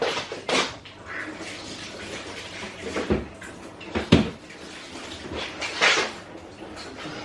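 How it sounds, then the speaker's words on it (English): Hands washed under a running kitchen tap: a steady, close rush of water with brief splashes and clatters of knocks against the sink. "I'm just going to give my hands a quick wash"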